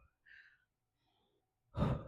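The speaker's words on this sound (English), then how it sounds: "As you can see, I'm breathing. I'm a heavy breather." Heavy breathing during a workout while pressing weights overhead: a soft exhale, a pause, then one loud, rough breath close to the mic.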